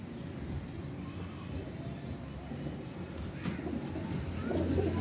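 Pigeons in a loft murmur soft, low coos beneath a faint background hum, with scattered rustling as they preen, the sound swelling slightly toward the end, quiet and without talk.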